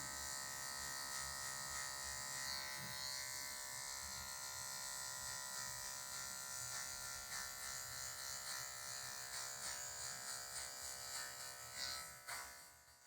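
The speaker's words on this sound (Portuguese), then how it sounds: "Tirar o excesso aqui só com a pontinha da máquina." Electric hair clippers buzzing continuously while a barber trims a low fade haircut, close and steady with slight changes in tone as the blade moves, plus faint background noise.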